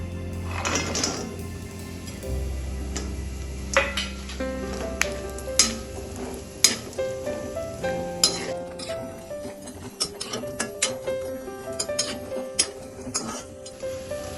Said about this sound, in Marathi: आता ह्याच तुपात आपण काजू आणि अक्रोड भाजून घेऊया